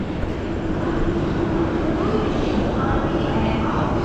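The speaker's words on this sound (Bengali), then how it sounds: "আমাদের ট্রেন রওনা দিয়ে দিল 8:36" Steady, loud rumble of the Shalimar–Puri Superfast Express passenger train moving, a continuous low roar with rattling throughout, no pauses.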